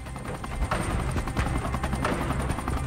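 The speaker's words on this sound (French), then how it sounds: "2 gazelles décollent de Mopti Sévaré" Two Gazelle military helicopters taking off from an airfield at Mopti-Sévaré in Mali, a loud rhythmic rotor thump over a steady turbine whine, close and continuous.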